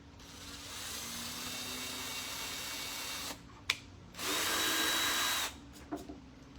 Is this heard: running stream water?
no